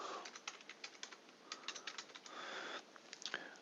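Quiet, close typing on a computer keyboard, a quick irregular run of light key clicks with short pauses between bursts, no voices.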